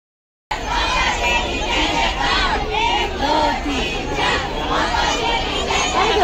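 At a packed Delhi temple on Makar Sankranti, a crowd chatters in a steady, close-by babble of many overlapping adult and children's voices that continues without a break.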